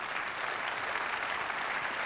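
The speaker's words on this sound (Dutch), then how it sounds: "Applaus voor Omar Muni." Audience applause fills a hall as a speaker is introduced on stage, a steady even wash of clapping from many hands at moderate volume, with no voices over it.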